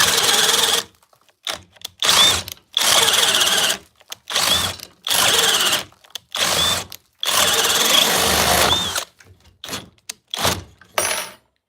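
A cordless drill on a 2 amp hour battery bores with a 1 1/4 inch bit in loud, repeated bursts of whining motor and grinding. Short silent gaps and occasional clicks separate the bursts.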